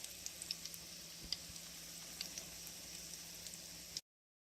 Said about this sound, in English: So then I took some oil and put it in my skillet, let it get hot, and I put these into the skillet about 15 to 20 seconds on each side